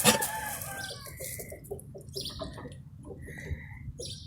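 An Australorp rooster clucks softly in a run of short repeated notes, fairly close, with faint bird chirps in the background.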